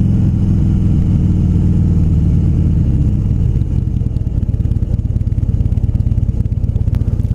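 A Harley-Davidson Sportster motorcycle rumbles close by while being ridden. The deep engine note is steady at first, then shifts to a rougher, pulsing beat partway through.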